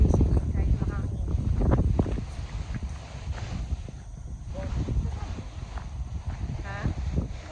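Gusty wind buffets the microphone in uneven rumbling bursts while fishing at Lockport, Manitoba, with people talking intermittently over it outdoors.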